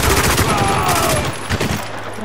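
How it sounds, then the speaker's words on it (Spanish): Sustained P90 automatic fire in Spec Ops: The Line rattles loud and dense for about two seconds, with a faint game voice underneath. "La P90 va muy guay."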